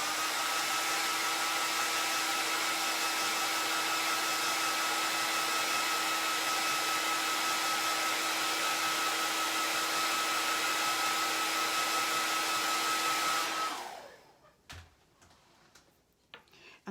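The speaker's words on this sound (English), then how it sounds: "I'm going to dry it really quick here." A hair dryer drying paint on a wooden unicorn craft, a steady close whine with a constant hum that runs about fourteen seconds, then cuts off and leaves faint handling clicks.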